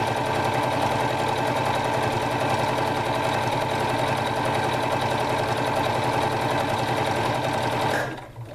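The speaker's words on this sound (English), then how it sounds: "I will sew all the way down, keeping my fabric lined up with that presser foot" A sewing machine stitches steadily down a fabric apron strap, its needle motor whirring in a continuous rapid hum close by, then slowing and stopping at the end.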